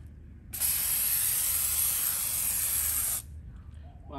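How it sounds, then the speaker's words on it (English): A cordless foamer fitted with a spray nozzle cap lets out one steady, loud hiss of spray lasting about two and a half seconds, then cuts off sharply, leaving quiet background. "Let's put the spray cap on and let's see what it does."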